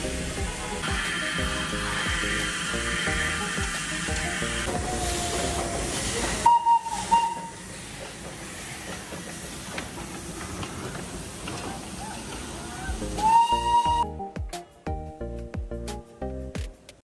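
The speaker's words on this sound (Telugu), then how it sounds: "మా ట్రైన్ అయితే ఇప్పుడు నేను కూర్చున్న డైరెక్షన్కి రివర్స్ అయితే వెళ్తుంది." Darjeeling steam toy train hisses steadily with a constant rush of escaping steam, broken by two short, shrill whistle blasts a few seconds apart, with mechanical rattling and clanks toward the end.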